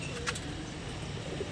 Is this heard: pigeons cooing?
yes